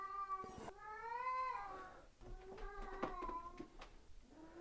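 A cat meows repeatedly nearby, long drawn-out wavering cries with a few short clicks and rustles between them.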